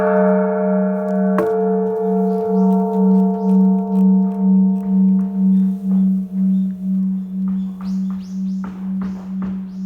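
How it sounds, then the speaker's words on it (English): A large bronze temple bell at Shoren-in in Kyoto, struck once with a hanging wooden striker, gives a loud deep boom that hums on with a slowly pulsing drone, while faint bird chirps and footsteps rise near the end. "Wow, it's a temple bell."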